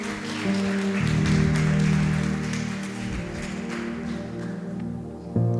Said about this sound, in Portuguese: Aplauda a Deus pelo evangelista.